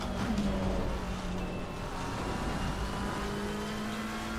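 Race car engine at Laguna Seca in a racing video game, a Nissan GTR in Team Lime livery, droning steadily at high revs with a continuous loud roar throughout.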